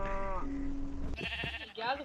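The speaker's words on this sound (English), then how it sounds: "Get back here, sheep!" Sheep in Minecraft bleat in a couple of short calls, mixed with game noise and a raised voice talking.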